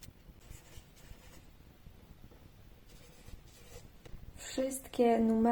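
A marker is written across a strip of tape stuck onto a diamond painting canvas, giving soft, scratchy strokes in short bursts at close range, with a mixer droning quietly in the background and a brief electronic sound at the end.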